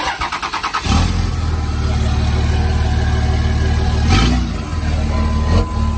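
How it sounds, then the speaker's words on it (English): A 2003 Dodge Ram 2500 with the 5.9L Cummins diesel cranks with a rapid chugging starter, fires, and settles into a loud, close rumbling idle with brief revs. "Well, the motor revs up."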